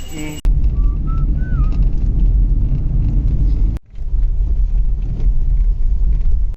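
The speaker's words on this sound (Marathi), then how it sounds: "आपली गाडी पार्क करत आहे" A car engine rumbles steadily at close range while the vehicle is being parked near Karnala bird sanctuary, with a brief dip in the sound partway through before the rumble resumes.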